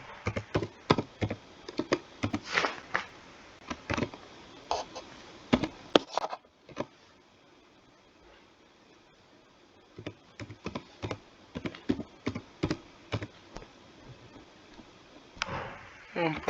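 A computer keyboard clatters in quick bursts of close key taps as an email address is typed, pausing quietly in the middle before resuming with more rapid typing.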